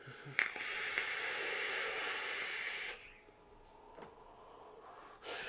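Vaping with a 70 VG strawberry, pomegranate and raspberry e-liquid: a soft close inhale click, then a long steady breathy exhale hiss of vapour lasting a few seconds before trailing off.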